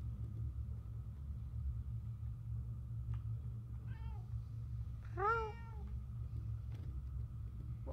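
A cat in the video game Murdered: Soul Suspect gives a single clear, rising meow over a steady low engine-like rumble, with a fainter chirping cry just before it.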